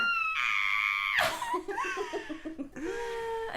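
Shrill, harmonic screams from women screaming like banshees into a screaming pillow, a long, piercing cry that breaks into giggling and laughter, then another drawn-out shriek, all close and loud.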